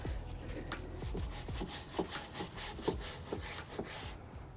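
A car tire being scrubbed with a brush and Adam's Polishes wheel and tire cleaner: steady rasping strokes repeat in a rough rhythm, close and fairly loud, with no talking.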